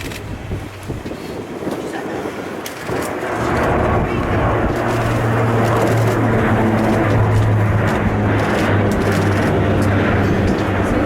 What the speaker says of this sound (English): He's taxiing out now.